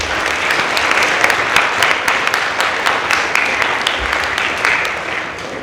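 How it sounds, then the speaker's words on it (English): A school assembly audience applauds after a talk on vaping, a loud, dense, steady wash of many hands clapping that holds for the whole stretch without letting up. "Please give him one last round of applause."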